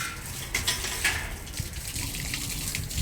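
Tap water running and splashing steadily during a dog's bath, faint and continuous with a few small splashes.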